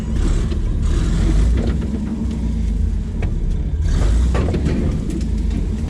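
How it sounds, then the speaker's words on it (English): A rock crawler drives around a rocky yard, its engine rumbling loud and close with brief surges of revving and crunching terrain noise, no talking. "Just doing a little bit of casual yard driving."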